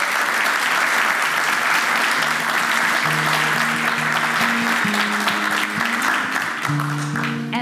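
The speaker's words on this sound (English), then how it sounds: "so I want to give them a big round of applause." Sustained audience applause fills a room at a climate preparedness event, dense and steady throughout, with faint tonal hum or voices underneath.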